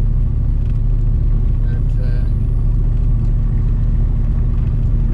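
An old Plymouth Scamp car hums and rumbles while driving in gear, a steady low engine drone inside the cabin with a voice talking over it.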